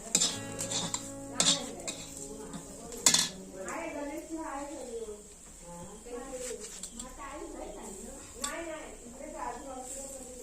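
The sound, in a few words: adding grated coconut to roasting onions in pan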